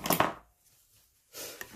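Scissors cutting paper for a scrapbook tea-bag dispenser craft, a short crisp snipping burst followed by a quiet pause and a second, softer cutting sound, close and alone.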